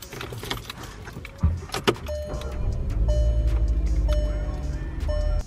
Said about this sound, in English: So let me turn on the car so I can show you guys.